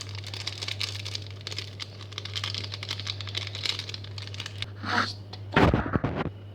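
Instant noodle spice packets being pulled out and torn open, with steady close crinkling of plastic wrappers and a sharper tearing rip near the end.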